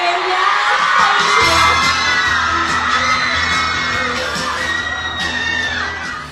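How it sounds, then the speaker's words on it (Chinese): Female fans scream in a loud, shrill, sustained chorus at a celebrity's appearance at a cosmetics brand event in Beijing, with rising and falling cries overlapping throughout. "人气爆棚，尖叫破表。"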